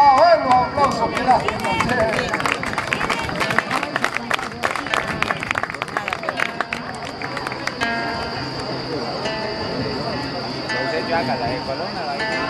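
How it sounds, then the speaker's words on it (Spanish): Spectators at a rodeo bronc riding final applaud and cheer, the clapping scattered and rising under a loudspeaker announcer's voice, with crowd chatter continuing as the applause thins out. "A ver los aplausos,"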